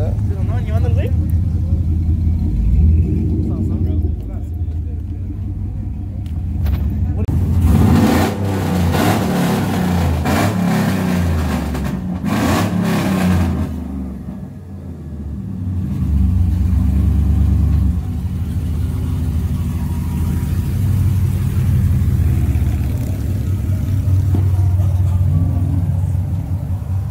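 Cars racing down the middle of a street, engines revving and accelerating in a loud rising roar that swells and fades, with steady rumbling throughout and people talking over the noise.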